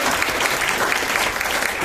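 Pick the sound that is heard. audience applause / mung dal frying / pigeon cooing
audience applause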